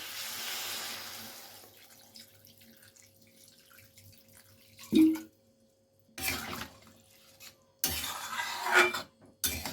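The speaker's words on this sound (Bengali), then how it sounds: "এবারে জলটা দিয়ে দেব এবারে দিয়ে দিলাম জল" Water is poured into a pot of prawn and potato curry whose spiced masala has been fried down until the oil separates. The splashing comes in a few separate close pours with quiet pauses between them.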